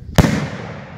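Birthday fireworks rocket going off outdoors, one sharp loud bang followed by a crackling, fading tail.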